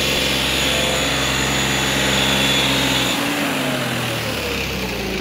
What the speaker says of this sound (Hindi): भाई पूरा जोर लगा दिया भाई ट्रैक्टर ने